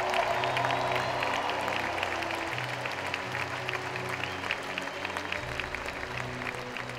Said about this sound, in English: a big round of applause for the 2018 Spartan basketball